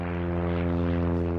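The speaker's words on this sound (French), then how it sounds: "Ce bruit familier, c'est le bruit d'un moteur d'avion." A propeller aircraft engine drones from high overhead, a steady harmonic buzz that stays constant and moderately loud through the whole stretch with no other sounds.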